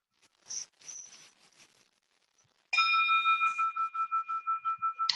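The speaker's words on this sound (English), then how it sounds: "allow yourself to synchronize your breathing with the chimes themselves" A meditation chime rings out clearly midway with a bright sustained tone and pulsing shimmer that carries to the end, preceded by faint soft rustling and quiet clicks.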